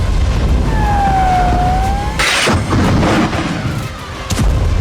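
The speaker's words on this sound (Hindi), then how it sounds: "इजरायली सेना बम बरसा रही है" A heavy explosion booms in Gaza during artillery fire and bombardment, a sudden loud blast cutting through a rising and falling siren, followed by rumbling debris and a few sharper cracks.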